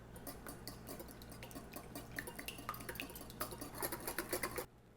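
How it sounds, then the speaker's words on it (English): A whisk beats eggs in a bowl, rapid metallic clicking and tapping that grows denser and louder before stopping abruptly, close up in a quiet kitchen with a low background hum. "we're going to whisk them until they're very well scrambled"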